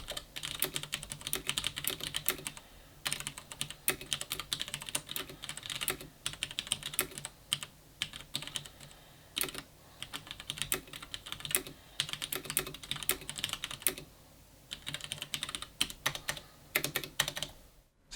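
Mechanical typing on a WASD V2 keyboard fitted with Cherry Brown switches, a steady close run of key clacks in uneven bursts with short pauses, heard alone.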